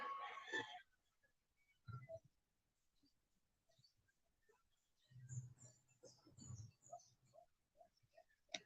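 A rooster crows once at the start, faint and somewhat distant. Quiet scattered sounds and low murmurs follow in an otherwise hushed setting.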